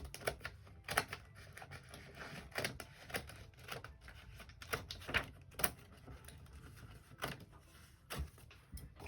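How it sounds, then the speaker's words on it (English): Scissors cut paper out of a notebook in a series of sharp, separate snips and crunches spaced irregularly, close up and fairly quiet, with no talking. "So now, let's go ahead and get this all out of my notebook. Just with my scissors."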